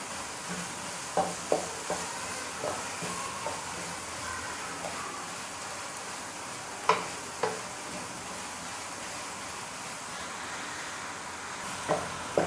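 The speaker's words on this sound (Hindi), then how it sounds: "अब मैं डालूँगी अदरक लहसुन पेस्ट, और इसे भी भून लूँगी थोड़ा सा" Ginger garlic paste frying in a pan while being stirred, a low continuous sizzle under scattered spoon scrapes and knocks, close and fairly quiet with no talk.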